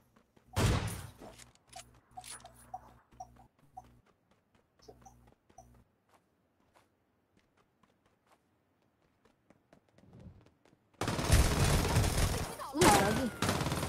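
Video-game gunfire and sniping, a sharp loud burst at the start, scattered lighter shots and thuds, then a dense sustained barrage of heavy fire at the end, with voices talking over parts of it.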